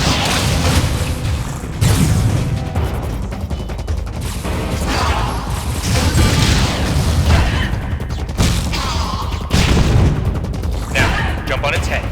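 Missile blasts and booming impacts from the Wii game Metroid Other M, a steady dense barrage of explosive hits throughout, loud and busy with no speech.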